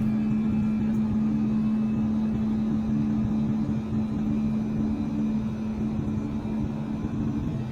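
Constant low engine drone and steady hum fill an airliner cabin in flight on a roughly hour-long domestic trip, unbroken and fairly loud with no talking.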